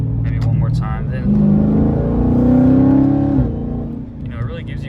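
A car engine drops a gear with the paddle shifters, the revs jumping to a sustained hum before it pulls away and the pitch climbs, heard from inside the cabin with someone talking over it.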